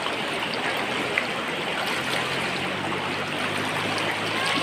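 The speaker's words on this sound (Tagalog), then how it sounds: "ito yung ilog dito guys." The Isap River in Bongabong, Mindoro flows over colorful stones, giving a continuous close rushing and trickling wash of water, steady and unbroken with no talk.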